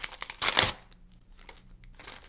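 Paper surprise packet holding headphones being torn open and crinkled by hand, a loud burst of rustling followed by softer scattered crinkles and a final rustle.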